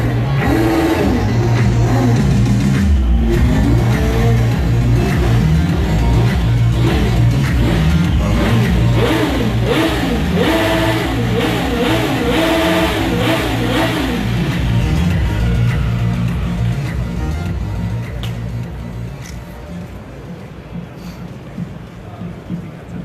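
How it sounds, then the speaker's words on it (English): A Triumph Daytona Moto2 765 limited-edition motorcycle engine revs loudly and steadily at a crowded unveiling at EICMA 2019 in Milan, the rising and falling engine note sustained over loud background music and crowd noise before easing off near the end. "Ladies and gentlemen, the new limited edition Daytona Moto2"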